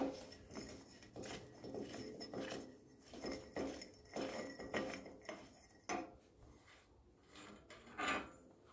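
Metal parts from a Land Rover Series 3 rear wheel bearing job tossed into a bucket, giving a run of close, sharp metallic clanks and rattles at irregular intervals, with quiet pauses between handfuls.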